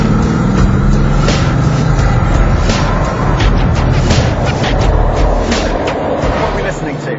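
Bugatti Grand Sport convertible with an 8-litre quad-turbo W16 making 987 horsepower, rumbling loudly and steadily close by with a deep, throaty roar that stays strong throughout, lightly masked by wind or broadband noise.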